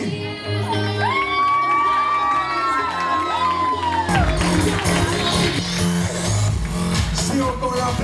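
A quinceañera party crowd cheers and whoops loudly over DJ music for the couples being introduced, with excited shouts and children's voices, and the noise swells around the midpoint.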